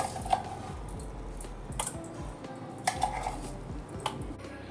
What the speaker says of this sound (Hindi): अब इसे हम एक बर्तन में निकाल लेंगे।